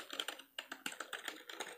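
Keys tapped on a new computer keyboard in a quick, uneven run of crisp clicks, heard close and quiet with no voices.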